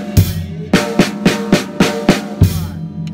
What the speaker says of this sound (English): and the break sounds like this